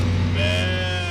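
Several sheep in a flock bleat together in a loud, continuous chorus of overlapping sustained calls, close and filling the whole short moment with no talk over it.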